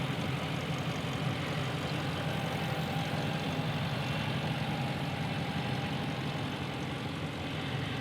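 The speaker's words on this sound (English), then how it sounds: "this is basically a Scat Pack 392 engine, or the SRT 392." A 2021 Jeep Wrangler Rubicon 392 with a 6.4-litre 392 V8 idles steadily for several seconds, a deep constant rumble with a low throb, close by and without talk.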